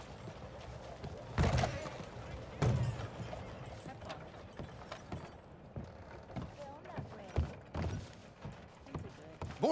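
Horse hooves clip-clopping in Red Dead Redemption 2, irregular thuds and knocks at moderate distance mixed with creaks, with a voice talking over part of it.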